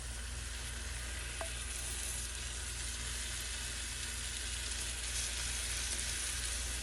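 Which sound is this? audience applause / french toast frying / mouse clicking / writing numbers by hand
french toast frying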